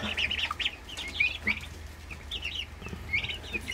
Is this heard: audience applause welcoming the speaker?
no